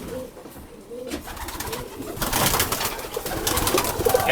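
Pigeons in a roomy loft with a breeding pen, cooing softly amid a steady busy background of wings and bird noise that swells louder in the second half.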